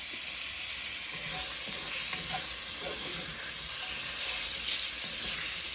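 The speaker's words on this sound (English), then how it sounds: "The next thing we are going to do is throw in the sausage. And we're going to brown those a little bit." Sausage browning in a pan alongside onions, garlic and bacon for country baked beans, giving a steady close sizzle and hiss with faint crackles throughout.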